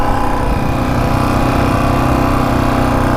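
A rare Honda 500cc motorcycle engine runs close by after years of sitting, a steady, loud, even mechanical drone with a rapid pulsing beat and no talk over it.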